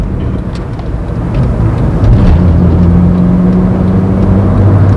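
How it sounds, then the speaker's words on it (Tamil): A modified Honda Civic accelerates hard in second gear, its engine drone loud and close and climbing steadily in pitch as it pulls for several seconds. "செகண்ட் கியரில் அசால்ட்டாக 100, 104 போகுது"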